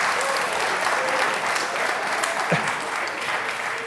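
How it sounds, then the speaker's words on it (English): A community awards audience keeps up loud, sustained clapping, an even roar of many hands with a brief sharper knock partway through and no break in the applause. "That's the big applause."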